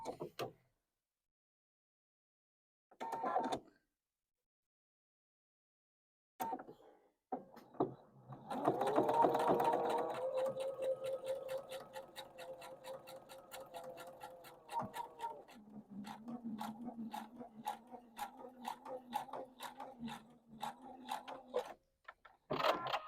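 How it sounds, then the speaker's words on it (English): A sewing machine stitches a quilt block, starting with brief mechanical clicks and pauses before a steady run of quiet, close, rapid stitching that slows near the end, with no talking. "I'm going to sew on a 1/4 of an inch away from either side of that line down the center"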